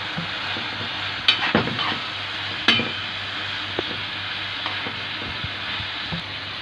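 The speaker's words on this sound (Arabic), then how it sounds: "الفلفل الرومي، والفلفل الحامي، ونقلب بقى ده كله كده مع بعضه." Bell pepper and hot pepper fry in a pan with a steady close sizzle, while a utensil stirs them, giving a few sharp clacks and scrapes against the metal.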